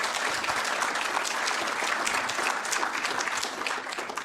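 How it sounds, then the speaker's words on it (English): Sustained applause from the audience at a university innovation summit tech pitch contest, a dense, steady wash of many hands clapping close and loud with no talk over it. "Round of applause."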